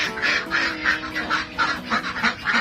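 Pekin ducks kept as backyard poultry quack repeatedly in rhythmic bursts, several birds calling close by without any talk, the quacks overlapping in a busy, continuous chorus.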